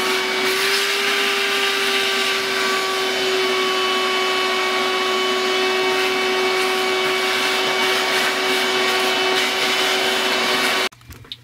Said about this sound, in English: I've used a vacuum and a scrub brush to get as much out as I could.